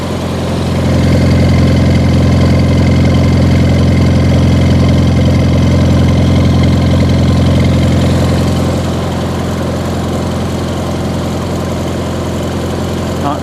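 A 1953 Farmall Cub tractor engine runs steadily at a little over 1800 RPM after two years of neglect, a loud, close, continuous drone that eases slightly in level partway through.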